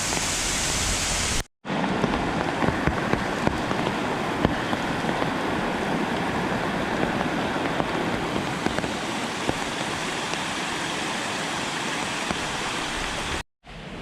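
Chan Ta Then waterfall in Chonburi, running full in the rainy season, sends a steady broadband rush of falling water, loud and continuous, with a brief cut near the start and another near the end, and no voices.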